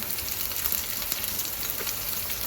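Garlic and ginger frying in oil in a pan for spicy chicken sukha, a dense, even crackling sizzle held close and steady throughout with no voices.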